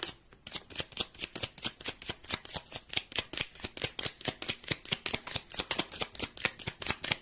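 A deck of tarot cards being riffle-shuffled, a steady rapid series of crisp flutters and snaps repeating for several seconds, close and clear, with no talking.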